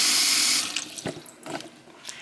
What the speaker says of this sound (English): So I'll fill that up there, and then I'll start warming the water.